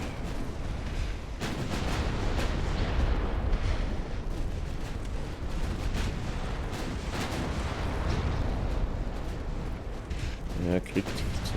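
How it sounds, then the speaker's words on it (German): Heavy battleship guns fire in the naval battle game Ultimate Admiral: Dreadnoughts, set in the Mediterranean in 1912. Deep rumbling booms and bursts roll on continuously, with several sharper shots standing out. "Schlachtschiffe schießen sich auch langsam ein."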